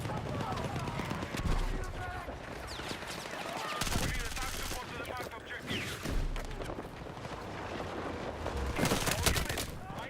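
Automated turret gunfire in Battlefield 6, rapid rattling bursts that come and go over several seconds, mixed with other battle noise and with people talking over it.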